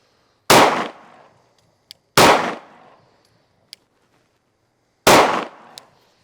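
Three sharp, loud pistol shots firing Hornady ammunition from an S15 Gen 2 magazine, spaced irregularly, each with a quick decaying echo and a light metallic tink of ejected brass a moment after, with no talking.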